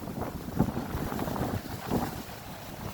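Waves wash in along the seashore at Dongsam-dong, Yeongdo, under gusty wind buffeting the microphone, a loud, continuous roar that swells a little in places.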